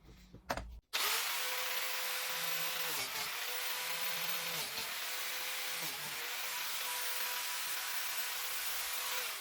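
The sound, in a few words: biscuit joiner cutting biscuit slots in wood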